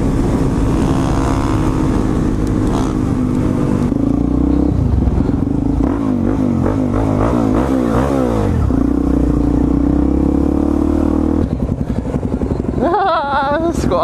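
Suzuki DRZ supermoto motorcycles riding together in a pack through Los Angeles, a loud steady engine drone with rising and falling revs and a brief sharper rev near the end, close to the mic.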